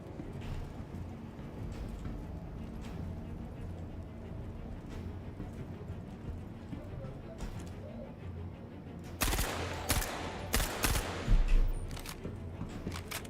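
Gunfire in the Star Citizen video game, fought in misty terrain: faint, distant rattling shots run through the background before a louder cluster of sharp bursts near the end.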